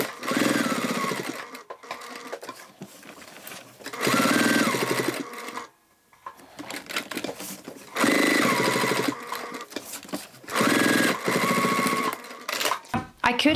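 Sewing machine stitching around a label on a shoulder bag, running in several steady bursts of a few seconds each with short pauses between, close and fairly loud.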